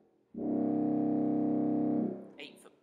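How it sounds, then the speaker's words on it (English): A deep 16-foot trombone pedal reed stop on a T. C. Lewis pipe organ at St Martin's Church, Liskeard, holds a single loud, buzzing low note for about two seconds, then releases into the church's brief reverberation. "Then we have the big 16-foot trombone."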